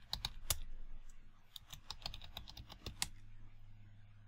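Quick, uneven keystrokes on a computer keyboard as a Linux terminal command to uninstall Composer is typed, a few sharper clacks standing out, close and moderately loud against a low steady hum with no talking.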